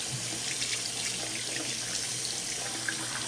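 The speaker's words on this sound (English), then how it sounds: "So I'm going to go ahead and rinse this out so you can see how effective it cleaned the" Tap water runs steadily into a sink while a makeup brush is rinsed under it, a constant even hiss with faint splashing shifts and no voices.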